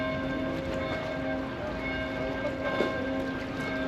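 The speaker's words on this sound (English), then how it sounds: "The bell chiming. I don't know if you can hear it, but I'll let it just chime." A church bell chimes at a distance, its steady ringing tone faint beneath a constant outdoor background hum, with no one speaking.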